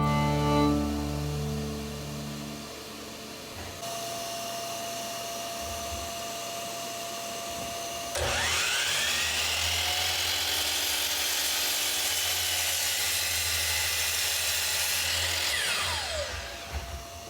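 A compound miter saw spins up with a steady motor whine, then bites into wood with a louder, rougher cutting roar for several seconds before the blade winds down, close and without talk.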